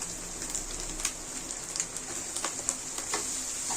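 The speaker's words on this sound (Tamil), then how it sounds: "நம்ம கட் பண்ணி வச்சுருக்க வெங்காயம் கருவேப்பிலை பச்சை மிளகா அதுக்கப்புறம் முட்டைகோஸ் இது எல்லாத்தையுமே சேர்த்து நல்லா வதக்கிக்க போகிறோம்" Onion, curry leaves, green chili and cabbage sauté in oil for egg noodles, giving a steady, fairly quiet sizzle with faint crackles and occasional soft stirring clicks, with no voices.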